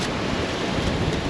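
Strong morning wind buffets a microphone outdoors, a dense, steady rumbling roar with no other sound.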